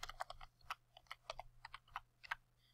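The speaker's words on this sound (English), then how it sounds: "grab your text tool and start typing the text you want to use" Computer keyboard typing while entering text in Photoshop: a quick, irregular run of close, crisp keystroke clicks, alone and fairly quiet.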